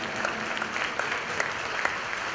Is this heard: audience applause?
yes